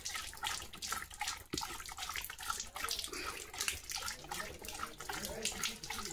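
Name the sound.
water running for drinking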